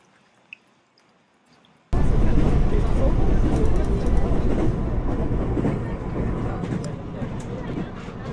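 After a brief quiet moment, a loud steady train rumble sets in and continues, a dense roar of rail noise with faint rhythmic clatter.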